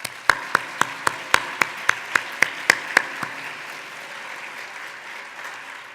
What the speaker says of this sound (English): if we can give a round of applause for Chris Essel.